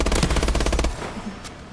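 A loud, rapid burst of automatic gunfire in Call of Duty Advanced Warfare multiplayer, fast evenly spaced shots that stop abruptly after under a second, followed by quieter game sounds.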